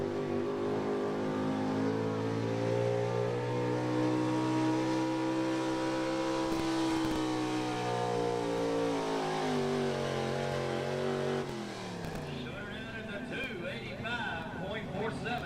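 A square-body Chevy truck pulls a sled at a truck and tractor pull, its engine roaring loud and sustained with rising revs before it drops off near the end, with an announcer talking over it.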